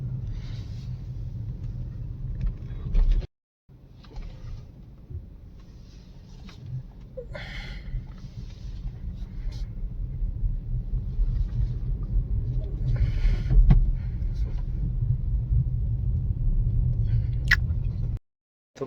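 A Maruti Suzuki Brezza with about 40,000 km on it is driven slowly into a service showroom. A low engine rumble and tyre noise hold steady close by, broken by a brief gap, with a few faint knocks and creaks.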